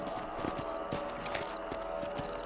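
Rhythmic clip-clop of horse hooves at a steady trot in Red Dead Redemption, moderately close under ambient game noise, faint and low in level.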